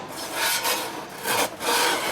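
Hand sanding of a wooden surface to smooth it before spray painting, heard as close, loud abrasive rubbing strokes in a quick back-and-forth rhythm, about four strokes with brief pauses, no talking.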